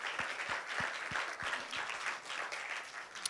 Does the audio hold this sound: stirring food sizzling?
no